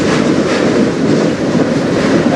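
A freight train of empty aluminum cars rolls past close by as a steady, dense rumble with a faint clatter of wheels and no voices.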